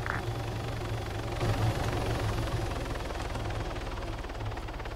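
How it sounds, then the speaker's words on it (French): A helicopter in the Arma 3 video game hovers nearby with steady rotor chop and a low engine hum, a continuous even drone for the whole stretch with no talk over it. "Hélicoptère en portant, on décroche."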